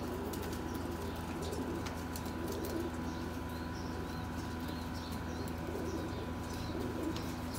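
Pigeons kept as show birds for sale, cooing softly and continuously in the background, with occasional light chirps and faint wing flutters, no talk.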